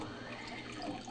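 Lye solution poured quickly from a pitcher into oils while making homemade soap, a steady, close liquid splashing and trickling that lasts the whole short moment with no talk.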